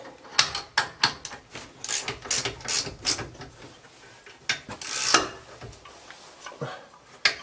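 Ratcheting clicks from a 17 mm wrench tightening the front brake caliper bolts on a 2009 petrol Suzuki Alto, a close series of quick metallic bursts with short pauses, no talking.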